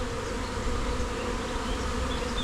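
A colony of honey bees hums without a break as the hive is inspected, a thick, even drone right up close with no talking over it.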